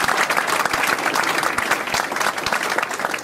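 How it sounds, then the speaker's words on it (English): A crowd at a retirement celebration applauding, dense steady clapping from many hands throughout. "let's have a round of applause for these two guys"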